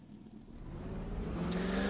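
A 1970s Camaro Trans-Am race car on a short track at Riverside International, engine droning and rising steadily as it brakes and works down through the gears, loud and close with no voices.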